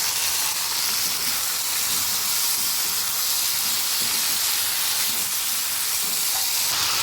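Spices with turmeric and salt sizzling in a pan for a vegetarian helencha saak jhol: a dense, steady hiss of frying that holds at an even, loud level throughout, with no talking.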